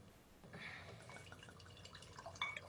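Merlot wine trickles into a glass close by, a soft, faint splashing pour with small dripping notes and quiet room background.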